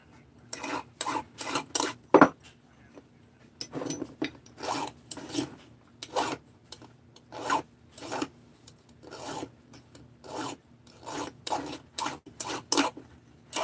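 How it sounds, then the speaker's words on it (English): Filing burrs off small metal parts: repeated short rasping strokes in uneven bursts, close and fairly loud, with brief pauses between groups of strokes and no talking. "So, Tom, I'm just taking the burrs off of these."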